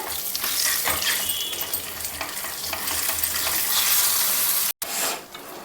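Steady sizzling and frying with jujube fruit chutney being stirred through hot oil tempering, stove off, continuous for several seconds, then a brief cut and quieter sizzle.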